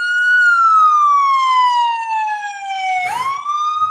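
A loud wailing ambulance siren in New York City sweeps slowly down in pitch, then jumps back up, close by and dominating everything.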